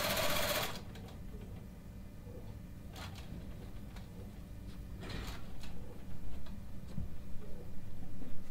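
A sewing machine runs steadily in a shop where fabric is held in place while the machine is moved, giving a continuous mechanical whir with faint ticking and a few brief clatters, fairly close and without talk.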